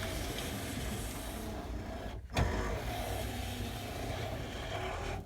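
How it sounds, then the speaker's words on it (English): Power window motor on a 1965 Buick Riviera Gran Sport, a steady electric whir with a brief thunk midway, then the motor running on again, close up and with no talk. "let's talk about the power windows. Power windows. And power rear windows or quarter windows."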